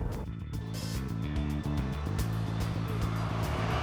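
A 2021 Cadillac CT4 with rear-wheel-drive-based chassis accelerates hard through corners, its steady engine drone and road noise heard from inside the cabin, continuous and fairly loud.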